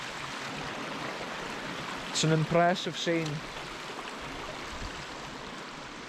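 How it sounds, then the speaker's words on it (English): Steady broadband rush of a Scottish river spilling over a small waterfall among rocks runs throughout while someone speaks briefly in the middle. "Look at the way the river's coming round with a little waterfall."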